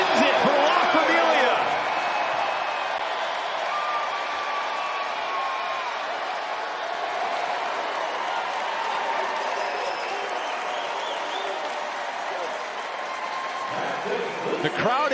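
A basketball crowd at an alumni tournament game erupts in sustained cheering and applause after a game-winning basket, a dense loud roar holding steady for the whole stretch while a commentator talks over it.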